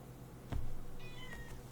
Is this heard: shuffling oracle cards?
no